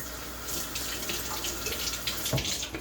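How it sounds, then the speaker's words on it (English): A kitchen faucet runs steadily as fingers are rinsed under it at the sink, a continuous close splashing rush with small irregular spatters and shifts in the flow. "Rinse my fingers off."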